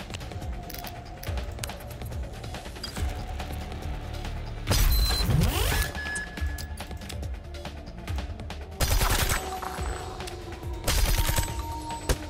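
Turret fire from the strategy video game Reverse Collapse comes as dense bursts of rapid shots and impacts over a rumbling battle backdrop, loud and busy, with a few heavier blasts in between.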